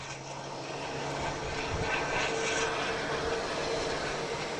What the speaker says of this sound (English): An A321, flight 398.